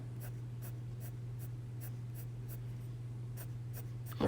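Arteza colored pencils scratch steadily across paper as someone colors, giving a rapid series of light, dry strokes under a constant low hum.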